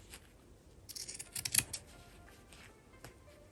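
Scissors snip through fabric while a passport holder is cut out, a faint, close run of crisp snipping and rustling strokes clustered near the middle, with no one talking.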